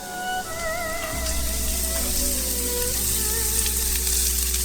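Shredded cabbage hits a pan of hot oil with about a teaspoon of chopped garlic over high heat, crackling in a loud, continuous fry with faint tonal sounds behind it.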